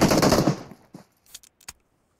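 Gunfire in PUBG Mobile opens with a loud, close automatic burst that fades out, followed by a few isolated, sharper single shots spaced apart.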